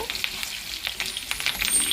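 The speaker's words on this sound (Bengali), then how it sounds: "ওটা এখন ভাজা হচ্ছে, ভাজা হতে থাকুক" Fish roe frying in a pan for a Bengali fish egg curry, giving a steady close crackling sizzle with dense spitting pops throughout and no voices.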